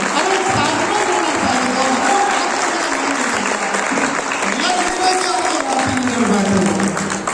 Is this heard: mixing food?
no